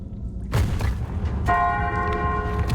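A single deep bell strike from a puzzle in the Dead Stop video game booms out, then settles into a sustained, ringing metallic tone.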